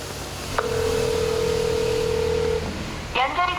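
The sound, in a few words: telephone ringing unanswered, call not connecting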